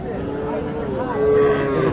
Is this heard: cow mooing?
yes